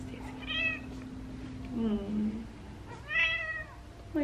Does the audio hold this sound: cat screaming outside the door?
yes